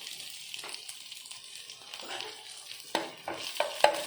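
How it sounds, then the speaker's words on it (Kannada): Carrot and cabbage stir-fry in a pan for noodles, a close crackling sizzle with busy stirring scrapes and a few sharper metallic knocks near the end, no voices heard. "ಇದನ್ನು ಫ್ರೈ ಮಾಡ್ಕೊಳ್ಬೇಕು."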